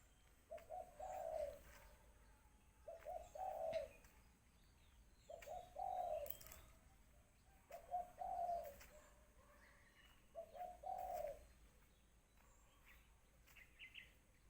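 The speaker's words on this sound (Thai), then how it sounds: "นกมันฮ้องอยู่เทิงต้นนี่นกมันอยู่ต้นนี่" Doves coo from a tree in the morning, five evenly spaced rounds of soft hooting calls roughly every two to three seconds, fairly faint and a little distant against a quiet background, with no talking.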